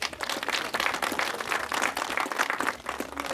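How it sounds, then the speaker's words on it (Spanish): Congregation clapping for the Lord at an evangelical gathering during a procession, a dense steady wash of many hands clapping with scattered voices beneath. "Palmas para el Señor."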